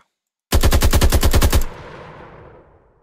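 A weapon in an Unreal Engine 5 zombies video game firing a rapid automatic burst of about a dozen loud, close shots, followed by a fading echoing tail and then silence.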